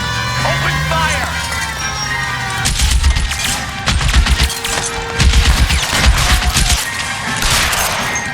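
Gunfire during a car chase shootout in L.A. Noire, volleys of loud close shots arriving in clustered bursts over an engine drone, with speech heard early in the clip.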